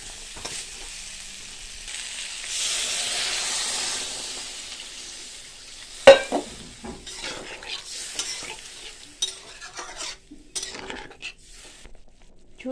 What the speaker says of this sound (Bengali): ফুলকপিটা ভালো করে আগে সিদ্ধ করতে ভাজি করছি